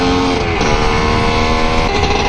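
A 1981 Yamaha IT250 two-stroke dirt bike engine runs loud and close at a steady, buzzing pitch throughout, with no talking.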